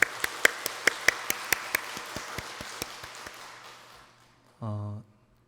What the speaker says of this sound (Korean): 하나님께 영광의 박수 올려드리도록 하겠습니다